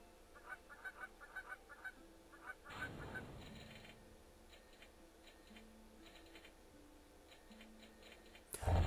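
Goose honks from a video game about collecting ducks, geese and swans ring out in a quick series of short calls over a steady ticking background, then a whooshing burst and softer game tones follow.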